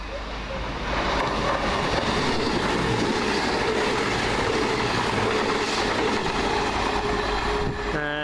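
A CrossCountry passenger train running from Glasgow Central to Birmingham New Street passes the Kingsknowe trackside, a loud, continuous rumble and rush of wheels on rails with faint clickety-clack, building quickly and holding steady nearby.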